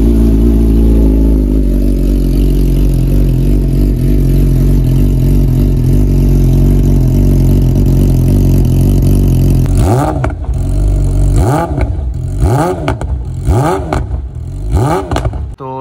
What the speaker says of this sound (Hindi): सबसे पहले इसको कोल्ड स्टार्ट करते हैं, बिकॉज अभी बाइक कोल्ड स्टार्ट नहीं हुई है